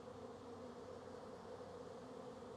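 Honeybee colonies humming at hives in April, a dense continuous buzz at an even level, soft and steady with no talking.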